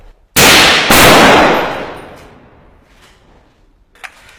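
Two loud, close gunshots from soldiers' weapons in combat in Marawi crack in quick succession, each trailing into a long reverberant decay, followed by faint distant knocks.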